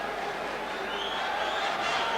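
A dense crowd of boxing fans chants "here we go" for McGuigan at a fight night, a steady, loud wash of massed voices with no breaks.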